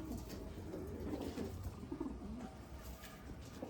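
Golden-eye pigeons cooing at a pigeon sale, low soft coos repeating through the moment, faint and close, with a steady background hum.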